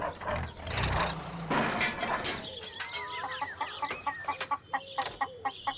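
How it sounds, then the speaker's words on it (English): Cartoon van engine making peculiar noises: a rumbling engine fades into a sputtering, knocking sequence of squeaky, clucking pops and whistles, moderately quiet and irregular in rhythm. "On the way to George Lancaster's, Pat's van was making some very peculiar noises."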